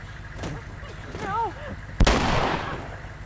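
A sudden loud boom of tank gunfire with a rumbling tail in the video game The Last of Us, following shouted voices.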